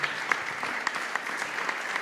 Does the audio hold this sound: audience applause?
yes